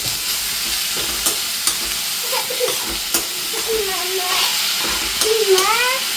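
Oyster mushroom theeyal being stirred in a pan, with a soft steady sizzle and scraping strokes running throughout at close range, brief higher squeaky tones near the end, no talking.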